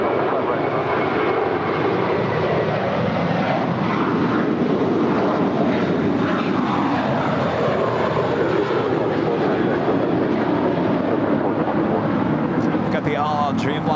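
An airliner, a heavy jet on its takeoff roll from runway 25 right at LAX, gives a loud, continuous engine roar that swells and shifts in pitch as it accelerates, with a brief radio-like chirp near the end.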